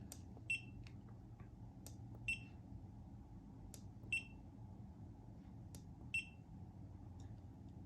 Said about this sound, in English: Again, we got our audible alarms